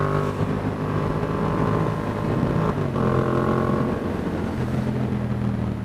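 A Yamaha FZ-07 street motorcycle idles steadily close by, its engine holding a low, even hum throughout with a brief blip partway through and no talking.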